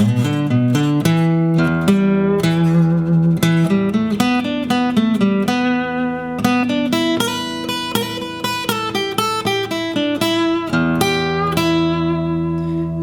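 Fast minor pentatonic guitar licks in C position in a rapid, continuous run of notes at full speed, bright and close, played without any talking.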